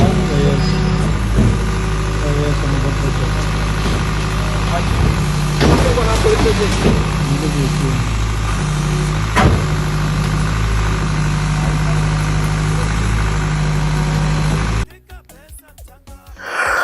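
A BMW car engine idles close by in a loud, steady low rumble for about fifteen seconds, then drops away to much quieter background.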